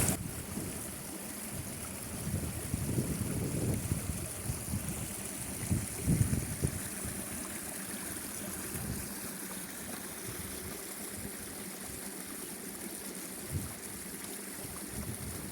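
Waterfalls and a rushing stream in the Peak District roar as a steady broadband wash of water, with occasional low rumbles of wind buffeting the microphone and footsteps nearby; no one speaks.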